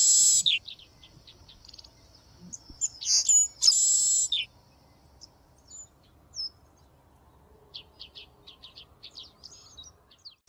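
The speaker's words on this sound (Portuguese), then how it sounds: "Esta é a Polícia Inglesa do Sul fêmea. E depois um macho vocalizando." A male Southern Red-breasted Meadowlark sings outdoors in quiet surroundings, giving a few bright, buzzy bursts early on, then a loose series of short, thin notes spaced apart.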